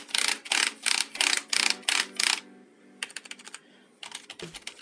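Typing on a Logitech MK235 keyboard, with rapid bursts of key clicks in quick clusters and short pauses between them, close and clear with no talking.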